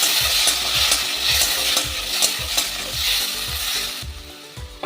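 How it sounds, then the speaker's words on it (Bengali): Tomatoes sprinkled with salt sizzle loudly in hot oil, a dense close hiss with a regular pulse of stirring strokes roughly every half second. "এবার দিয়ে দিলাম কিছু টমেটো, আর একটু লবণ ছিটিয়ে"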